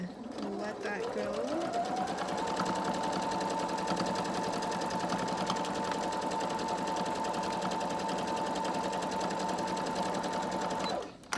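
A sewing machine stitches a bra seam near the dart, running steadily and loudly for about eleven seconds after a brief start-up, then stopping abruptly.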